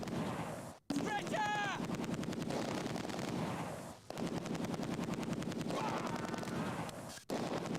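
Gunfire in the World War II tactics game Close Combat 2, dense rapid bursts of rifle and machine-gun fire crackling continuously with brief pauses, loud and close, with a voice heard faintly in the mix.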